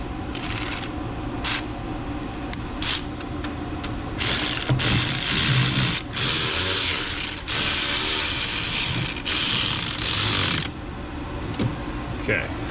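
A ratchet clicks rapidly while a top bolt is tightened on a 2010 Chevrolet Equinox 3.0 AWD, with bursts of clicking, louder stretches of steady ratcheting midway and background shop noise throughout.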